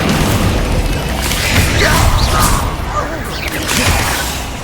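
A fire spell is cast in Hogwarts Legacy amid a dense battle mix, with booming bursts and whooshing swishes that hold steady and loud throughout.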